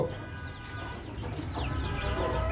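Chickens cluck and chatter close by in short, overlapping calls over a low background hum, no talking.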